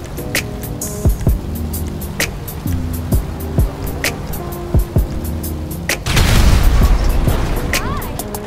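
A tractor blown up in GTA Online, a string of sharp impacts and bangs over engine rumble, ending in a big roaring explosion with a long noisy blast tail.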